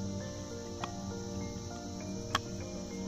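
Hornets buzz around a beehive outdoors in North Sikkim, a faint, steady droning hum with a couple of brief clicks, no voices.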